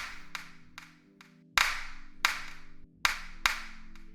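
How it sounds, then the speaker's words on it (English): Clap drum sample in a music production, crisp synthetic claps with a short close delay, struck alone in an uneven pattern of several hits, some louder and some softer, over a faint steady tone. "I like that clap."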